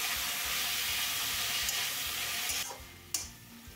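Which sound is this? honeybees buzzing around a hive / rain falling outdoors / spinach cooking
spinach cooking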